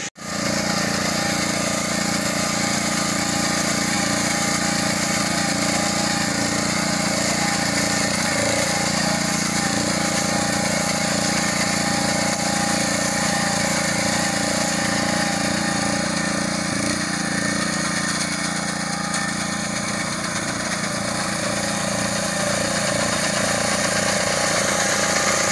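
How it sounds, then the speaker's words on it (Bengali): A rice harvesting machine's engine runs nonstop in a paddy field, a loud, steady mechanical drone with a faint buzzing edge that holds evenly for about twenty-five seconds with no voices. "আজকে ধান কাটিবার মেশিন ধান কিরম কাটে"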